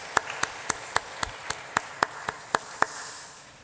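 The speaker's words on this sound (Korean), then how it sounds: "섬겨주신 우리 카리스 찬양팀 박수로 격려하겠습니다" Hand clapping at a church service after a worship team's song: about eleven sharp, evenly spaced claps at a slow, steady pace. They are fairly quiet against a soft background and then stop.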